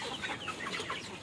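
Native backyard chickens and loose chicks clucking and chirping together in a busy, steady chorus, close by with no talk over it.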